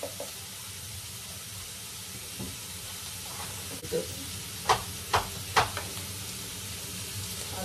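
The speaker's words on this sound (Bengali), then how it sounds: "দিয়ে দিয়েছি নুন হলুদ, নেড়েই যাচ্ছি নেড়েই যাচ্ছি" Mutton frying in a pan with salt and turmeric, a soft continuous sizzle with a few scraping stirring knocks toward the end.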